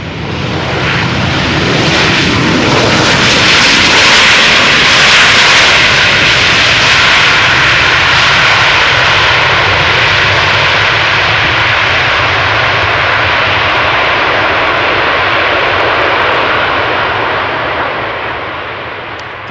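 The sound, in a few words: KLM jet airliner landing at Amsterdam Schiphol Polderbaan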